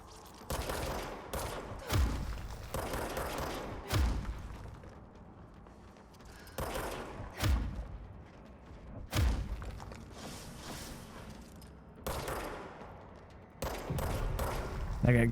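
Enemies fire guns in the video game Control, repeated loud volleys and thudding impacts in bursts separated by short lulls, with game ambience between.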